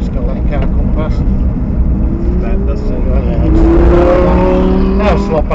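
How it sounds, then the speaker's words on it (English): A Lamborghini Huracan passes on the track at Kirkbride Airfield, its engine a loud, droning roar with a rising tone as it goes by close, heard over constant in-car engine and road noise. "keep the left hand side for me, just got to let the car come past"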